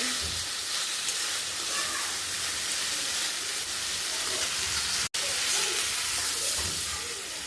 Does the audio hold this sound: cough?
no